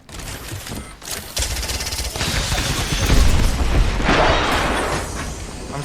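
Grenades go off in rapid succession in the shooter game Apex Legends, a loud, continuous barrage of booms and crackling blasts that builds and stays dense for several seconds.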